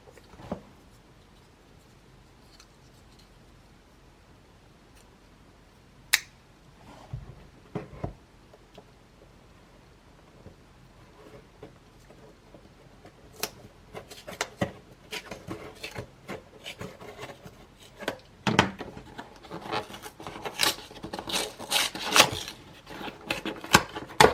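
Unboxing a Leatherman Signal multitool: quiet at first, then scattered rubbing, scraping and tapping of packaging that grows busier and louder toward the end, close with no talk.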